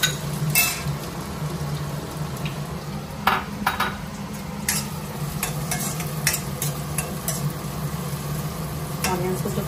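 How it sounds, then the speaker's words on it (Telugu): Onions frying in a pan for pepper mutton fry, a steady close sizzle with frequent spoon scrapes and metal clinks against the pan. "ఆనియన్స్ కొంచెం ఫ్రై అవుతామండి."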